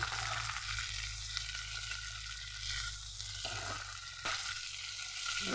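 Curry leaves crackle and sizzle in hot oil in a pan, a bright continuous frying hiss with occasional scraping stirs, fairly close and with no talking.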